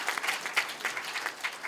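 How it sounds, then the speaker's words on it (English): Audience applause at a professorial inaugural lecture: a short burst of many hands clapping steadily, dense and fairly close, with no talk over it. "Can we give a big round of applause?"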